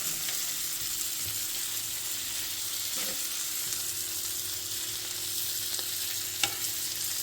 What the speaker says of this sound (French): Et on va laisser mijoter.